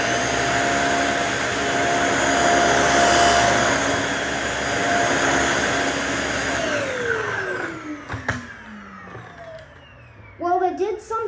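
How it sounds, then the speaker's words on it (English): A Dyson Small Ball vacuum cleaner runs with a steady, loud whine for about seven seconds, then powers down with a falling pitch, followed by brief knocks and a few spoken words nearby. "First up, we will be doing the Dyson Small Ball."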